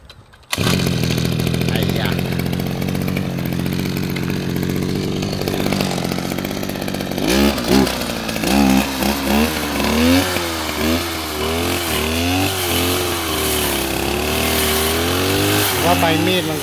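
A Mitsubishi T200 brush cutter engine starts with a sharp catch and runs loud and close, idling with a rattling buzz before revving in repeated rising and falling surges.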